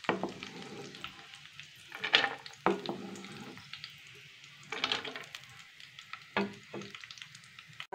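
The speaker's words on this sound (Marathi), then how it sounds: "हे तळलेले ड्रायफ्रूट्स जे आहेत ते काढून घेणार आहोत आपण" Dry fruits fry in ghee in a pan, with bursts of sizzling and crackling coming in uneven clusters over a quiet background, close and moderately loud.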